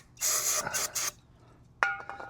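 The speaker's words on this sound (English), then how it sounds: "We're gonna spray a little bit of, what do we got, brake cleaner this time." Brake cleaner sprays from an aerosol can into a Craftsman pressure washer engine that won't start, with two or three close hissing bursts, followed by a sharp knock and some handling noises.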